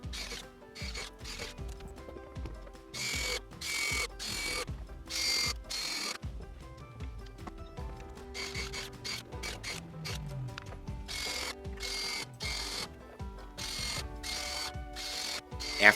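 Clamps are ratcheted tight on reclaimed wooden handrails while building a gate, giving a close series of quick mechanical clicks and gear-like ratcheting with brief pauses and shifting metal handling.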